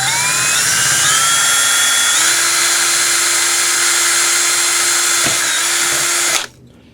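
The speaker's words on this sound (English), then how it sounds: "This is going to be this one's going to be easy to drill" A power drill runs steadily into a hummingbird feeder, a loud continuous whine at close range for about six seconds before cutting off abruptly.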